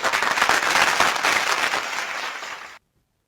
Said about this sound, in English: Let me give you a hands of applause for that.